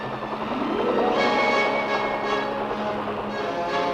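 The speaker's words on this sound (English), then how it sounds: "most aerial delivery of these field pieces is being accomplished by huge Chinook helicopter sling delivery" A large Chinook helicopter drones steadily with a deep, pulsing rotor thrum, moderately loud and continuous throughout.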